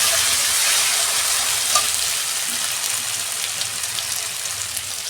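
Potatoes and a spoonful of ginger-garlic paste sizzle in a hot pan, a steady, loud, close frying hiss with occasional crackles that eases slightly over the stretch, with no talking.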